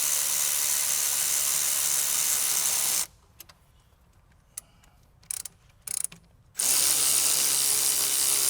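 A ratchet with an 11mm socket tightens the intake clamps on a Fleece Performance intake and grid heater kit on a 6.7L Dodge diesel, clicking rapidly and loudly up close, pausing briefly, then resuming.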